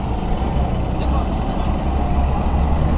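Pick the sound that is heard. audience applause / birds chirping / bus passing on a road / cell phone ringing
bus passing on a road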